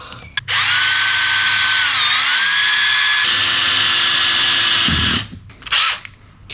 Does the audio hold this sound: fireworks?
no